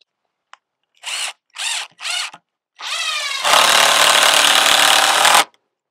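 A cordless power drill gives three short bursts, then drives a screw into wood for a goat and pig shelter in one long, loud run; close and with no talk.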